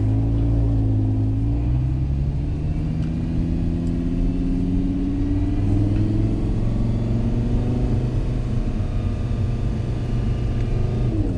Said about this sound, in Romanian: am dat jos gemulețul ca să auzim motorul